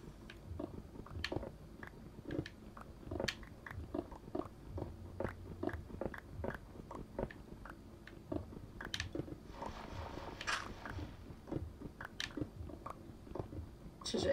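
Pickaxe mining cobblestone in Minecraft makes a steady run of short, crisp crunching taps at close range, repeating throughout with no talk over it.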